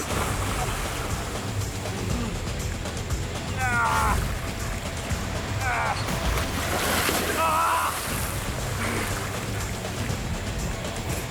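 Large arapaima thrashing in water after being hooked, continuous heavy splashing and churning with wind noise, while someone shouts excitedly over it.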